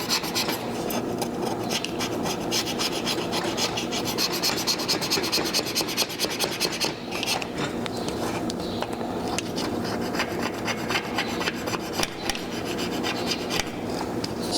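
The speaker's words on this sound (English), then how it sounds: "So we gotta scrape the old glue off." Old adhesive being scraped off a car's rear view mirror mounting button, a steady, loud, close rasping scrape that runs continuously with rapid repeated strokes and no pauses.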